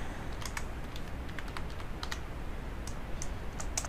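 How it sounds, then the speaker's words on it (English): Keys clatter on a computer keyboard while placeholder text goes into a Word document, quick irregular taps close by over a faint steady background hiss. "I'll type in some placeholder text."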